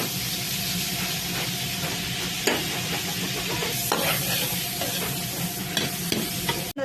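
Milkfish (bangus) frying in a pan gives a steady, dense sizzle and hiss that runs the whole time, with a few brief clinks and stirring knocks on top and no talking.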